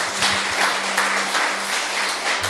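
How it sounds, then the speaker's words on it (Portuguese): A church congregation bursts into sustained applause during a sermon, many hands clapping in a dense, loud, even wash with a faint low tone underneath. "aplauda Jesus"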